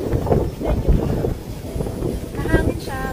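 Wind gusts across a condo balcony on EDSA in Kamuning, Quezon City, rumbling and buffeting the microphone while a person talks, with faint traffic from below.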